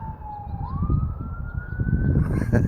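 An emergency vehicle siren wails outside, its tone sliding upward and growing closer over a low rumble of road traffic, moderately loud.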